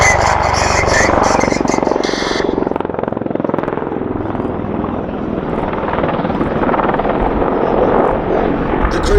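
An Apache attack helicopter performs a 360-degree wing-over display at Duxford Air Festival, a loud, close rotor thrum and turbine roar that holds steady, with a brief sharper high whine early before easing.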